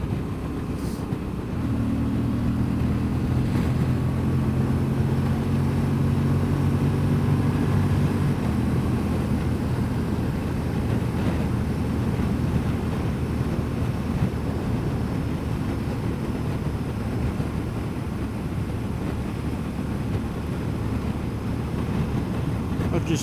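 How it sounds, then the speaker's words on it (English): Wind buffets a microphone outdoors in a breezy spot up high, making a continuous low, dense rumble that lasts throughout, with a faint steady hum early on. "oh, it's a bit breezy up here."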